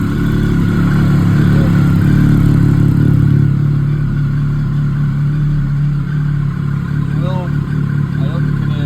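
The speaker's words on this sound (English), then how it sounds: "bike's warming up." A Triumph Sprint ST 1050 motorcycle engine idles steadily while warming up at close range, a low continuous rumble with little change in pitch throughout.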